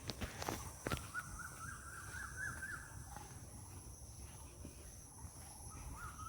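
Birds call and chirp in a rural bamboo grove, with crow-like caws and a steady hum of insects, plus faint footsteps of someone walking through the quiet countryside.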